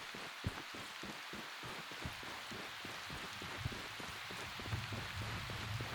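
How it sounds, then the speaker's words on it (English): Steady rain falls in the video game Prologue: Go Wayback!, a soft continuous patter with scattered drop ticks throughout, moderately quiet and with no voices. "In the same breath that it chooses to bless me with some rain."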